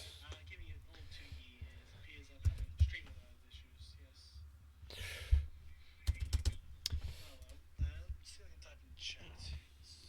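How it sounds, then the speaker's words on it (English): Keystrokes on a computer keyboard while typing into a War Thunder chat, soft irregular clicks in scattered bursts, fairly quiet beneath low mumbled talk and breathing. "let's see if I can type in chat"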